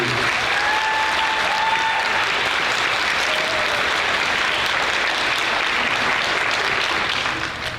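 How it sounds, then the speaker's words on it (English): At a middle school band concert, the audience fills the hall with a long, steady round of applause for the band, holding strong throughout before tapering slightly at the close. "So if you don't mind, give them a round of applause"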